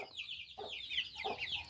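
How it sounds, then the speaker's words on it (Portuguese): Hens and young chicks cluck on a rural Brazilian farm, with several short, close calls overlapping in an uneven rhythm and no one speaking. "Vou colocar água para esses pintinhos, para essas galinhas."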